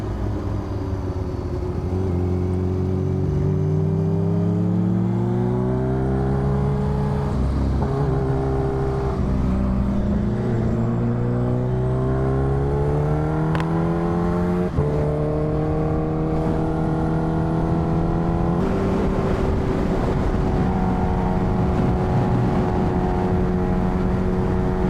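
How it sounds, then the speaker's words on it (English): A Koenigsegg Agera RS supercar engine roars and revs continuously with shifting pitch, loud and close, with occasional sharp crackles of pops and bangs. "the pops and the bangs that are coming from that car are absolutely nuts"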